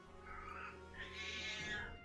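A cat meows in a Final Fantasy XI game scene, two drawn-out faint calls, the second longer and rising, over a soft steady background.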